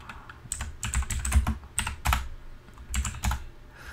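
Rapid clattering keystrokes on a computer keyboard in bursts with brief pauses, close and clear while working in a Linux terminal; no speech.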